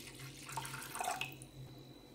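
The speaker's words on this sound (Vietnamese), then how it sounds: "Mình cho hết 400 ml nước vô nồi mình nấu." Water poured into a cooking pot while making steamed banana cake, a soft splashing trickle close by and fairly quiet, swelling briefly in the middle before settling.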